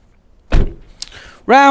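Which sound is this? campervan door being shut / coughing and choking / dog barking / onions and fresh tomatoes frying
campervan door being shut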